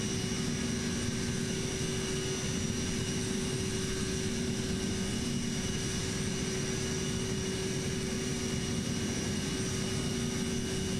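Steady, continuous propeller airplane engine drone in Microsoft Flight Simulator 2024, a constant hum with tonal whine held unchanged throughout, loud and alone with no talk.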